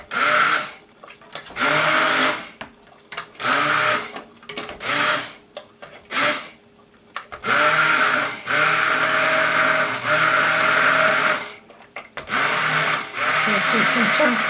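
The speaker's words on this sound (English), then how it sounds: "Make sure you get all the pieces blended" A kitchen blender purees butternut squash soup in loud whirring bursts, starting and stopping repeatedly, with its pitch shifting as the load changes.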